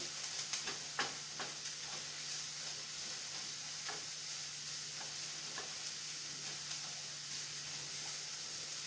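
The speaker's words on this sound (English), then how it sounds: "Smell those onions cooking." Onions sizzle steadily in a pan, a constant soft frying hiss with a low hum beneath and occasional light pops and stirring ticks; no voices.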